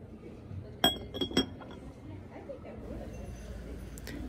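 Milk glass dishes clink against each other as they are handled in a thrift store, giving a few bright, close taps over a steady hum of store noise and nearby talk.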